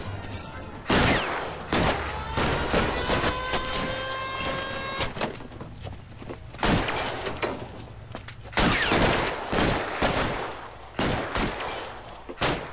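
Repeated gunshots in an LA Noire shootout with armed robbers, sharp bursts firing in clusters, loud and near, with a faint mechanical whir and steady game background between volleys.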